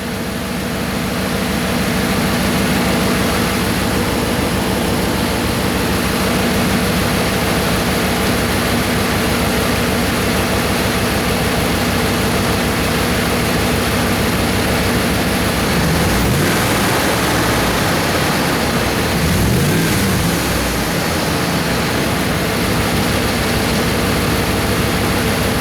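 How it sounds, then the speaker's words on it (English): A Dodge Hemi engine idles steadily and loudly up close with its AC compressor engaged and a freshly replaced belt and tensioner, a constant droning hum that swells briefly with extra low rumble near the end, no voices. "just saw the AC compressor kick on, so no squealing, belt's holding"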